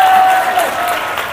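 A church congregation claps together, a dense burst of applause filling the space for a brief moment.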